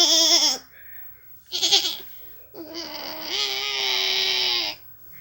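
A sheep bleats three times in a farm animal sound game, a short wavering cry, a brief second one, then a longer drawn-out call, clear and close with no talk.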